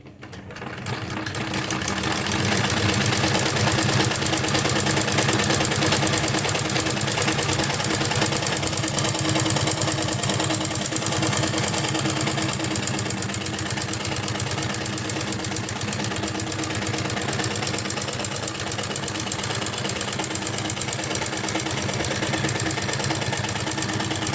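A sewing machine stitches a wavy hem design on a salwar, running loud and steady without pause for the whole stretch, a dense close mechanical whir and clatter.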